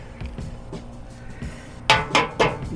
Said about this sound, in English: Put the wrench on and gently snug it up tight.